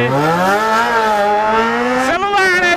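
A Yamaha XT660 motorcycle engine revs up close and loud, its pitch climbing smoothly, then jumping sharply higher near the end, with no voices over it.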